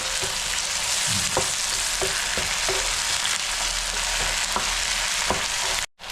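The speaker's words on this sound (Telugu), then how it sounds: "పేస్ట్ వేసుకుందాం రెండు స్పూన్లు వేసాను పచ్చి వాసన పోయే వరకే వేపాలి" Spice paste for a prawn curry fries in a hot pan with a steady, dense sizzle, close and loud, broken by occasional stirring scrapes and clicks before a brief cut near the end.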